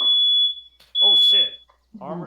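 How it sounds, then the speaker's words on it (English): A household fire alarm shrieks in two long, piercing, steady tones, close and loud, while a person speaks in short exclamations between and after the tones. "That was my fire alarm."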